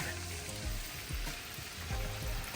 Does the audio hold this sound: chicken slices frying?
yes